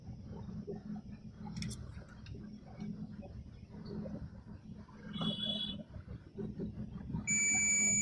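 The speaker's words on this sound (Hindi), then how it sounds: "देखिए ये बीप कर रहा है।" Multimeter continuity beeps while probing the pins of a 10-pin dual MOSFET, short electronic tones sounding over a low background hum, with a steadier beep near the end.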